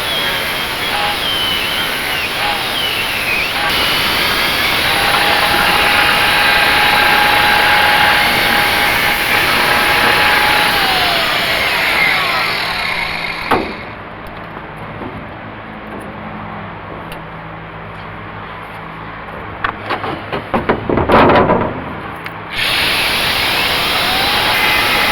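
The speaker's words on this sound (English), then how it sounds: "I'm going to cut it out with my grinder" An angle grinder cuts a replacement window piece for a 1946 Chevrolet with a loud, harsh, continuous roar that dips and stutters near the end as the cut finishes.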